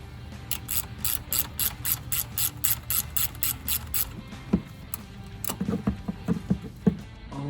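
A ratchet wrench clicks rapidly and rhythmically while unbolting suspension parts on a Ram 2500 truck, then gives way to scattered metallic clanks and knocks nearby.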